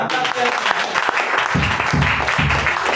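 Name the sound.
congregation applauding in church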